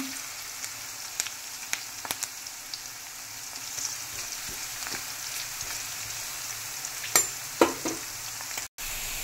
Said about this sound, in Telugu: ఇదిగోండి ఆనియన్స్ వేసాను. కొంచెం ఫ్రై చేసుకోవాలి బాగా.